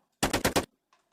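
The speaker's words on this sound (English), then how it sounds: "So if we go ahead and fire a few rounds" Four rapid gunshots from a weapon in a video game fire in a quick burst, loud and close, followed by faint mechanical clicks.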